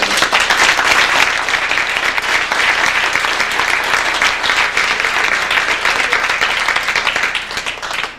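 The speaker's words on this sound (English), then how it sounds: "I'd like a little round of applause for Mr. and Mrs." Sustained audience applause for Mr. and Mrs. Venne at a winter carnival king and queen event, a dense, steady wash of many hands clapping close and loud throughout, tapering slightly at the end.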